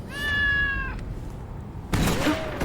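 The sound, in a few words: cat meowing in the video game Loopmancer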